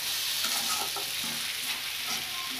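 Eggplant for bharta frying in a pan, a steady close sizzle with faint stirring scrapes, no voices.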